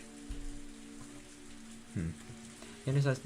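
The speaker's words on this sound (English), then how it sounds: "The only sounds to break the silence were the percussion of the rain on the roof" Rain patters steadily on a roof in the video game Higurashi, as a soft, constant hiss under low humming tones, with brief louder voice-like bursts breaking in.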